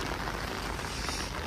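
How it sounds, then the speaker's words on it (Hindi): Rain falls steadily on grass, trees and plants outdoors on a campus, a dense, even hiss with no voices. "साथ में बारिश काफ़ी है"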